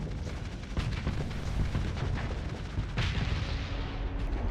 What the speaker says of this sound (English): We put a lot of bullets down range with that medium flechette